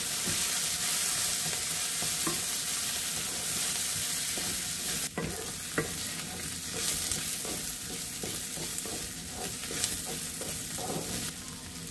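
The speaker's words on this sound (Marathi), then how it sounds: "आता आपण त्यामध्ये आलं लसणाचे काप टाकूया आणि थोडंसं आपण कांद्याला गोल्डन ब्राउन होऊन देणार आहे" Sliced onions fry with slices of ginger and garlic in hot oil, a loud, continuous close sizzle with scattered clinks and scrapes of stirring throughout.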